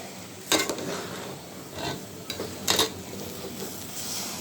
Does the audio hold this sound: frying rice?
yes